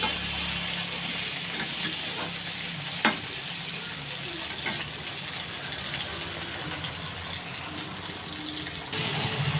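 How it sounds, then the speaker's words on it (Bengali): Taro pieces, boiled first, fry in a pan with a steady, even sizzle and a few sharp clicks of stirring, heard alone without speech. "কচু ভাজাও হয়ে গেছে"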